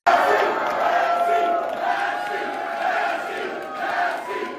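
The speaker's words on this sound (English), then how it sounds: "The energy here is exciting and the Massey crowd is roaring" A large crowd at a campaign event roars and cheers in rolling waves of massed voices, loud and close, with a voice talking partly over the noise.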